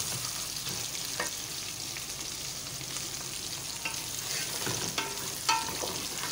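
Meat fries in a pot with ginger and garlic, a steady low sizzle with occasional soft clicks and stirring scrapes, heard close and fairly quiet with no talking.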